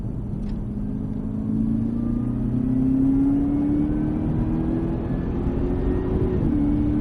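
A car accelerates steadily as the throttle is squeezed, its engine note rising in pitch over several seconds in a continuous loud drone, with no talking heard.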